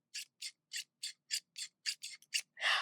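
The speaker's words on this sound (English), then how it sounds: "Very smooth pair of scissors." Singer fabric scissors snip close up, about ten crisp separate cuts in a steady rhythm, ending in a longer slicing rasp through fabric, quiet and alone.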